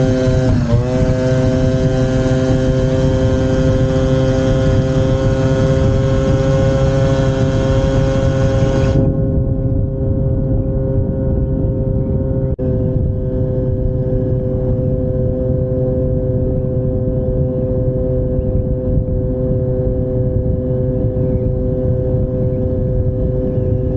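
A scooter fitted with a Malossi Multivar variator accelerates at full throttle down a slight slope, its engine droning loud and steady with a rising then levelling whine, alone, heard close up throughout.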